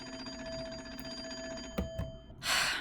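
A telephone rings through repeated bell trills from a coin phone on a porch in the Nancy Drew game Secret of the Old Clock, then a couple of soft knocks and a brief burst of hiss.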